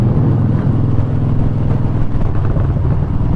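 A motorcycle engine running steadily while riding on a warm day, a loud close drone with a pulsing low rumble that holds without a break.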